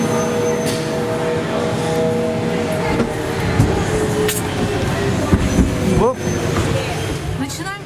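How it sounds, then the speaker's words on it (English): A Queenstown gondola cabin climbs the hill with a steady, loud rumbling drone and rattling mechanical noise, broken by occasional clunks and squeaks as it passes over the support towers. "We are in gondola and starting to climb."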